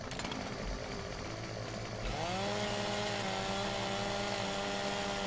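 A chainsaw in the farming game Farming Simulator 17 starts up after a moment of background engine hum, then settles into a loud, steady idle drone that runs on continuously without speech.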